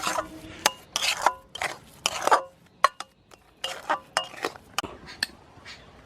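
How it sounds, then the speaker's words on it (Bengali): A utensil stirs sugar into semolina in a kadai taken off the heat, with a steady run of clinking, scraping strokes against the metal pan, close up. "চিনিটা এই সুজির সঙ্গে একটু মিশিয়ে নিচ্ছি"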